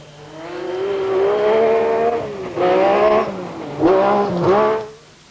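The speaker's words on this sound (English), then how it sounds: "Tony Pond was really fighting back in the Metro." A Metro rally car at full throttle on a stage of the 1986 RAC Rally, its engine revving loudly through repeated rises and drops in pitch as the driver shifts, close by, then fading away at the end.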